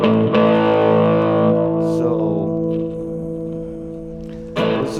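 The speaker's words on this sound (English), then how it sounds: "If you listen to 60s stuff, a lot of the distortion stuff is actually fuzz" An electric guitar through a Flying Tomato fuzz pedal with a dying battery rings out a thick, buzzing chord that sustains and decays, then another fuzzy strum hits near the end.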